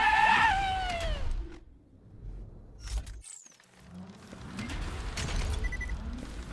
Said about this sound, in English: Oh, the gun screams.